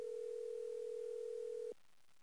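A steady telephone dial tone from a phone in a Nancy Drew mystery video game, one unbroken loud tone that cuts off abruptly near the end, leaving quiet room noise.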